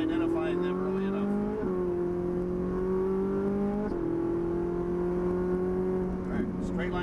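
A Ferrari 458 Italia engine on a race track, holding a steady high-pitched tone through a corner and then climbing in pitch in a few stepped surges, loud and close throughout.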